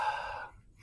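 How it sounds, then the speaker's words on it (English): A person breathes all the way out in one long, steady exhale while curling the back over and bending down, breathy and close, fading out before a faint intake at the very end. "And then breathe all the way out"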